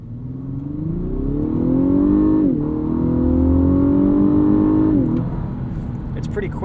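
A 2021 Lexus LS500 F-Sport accelerates hard from 0 to 60, its engine note climbing steadily through two upshifts with brief dips, loud and close from inside the cabin.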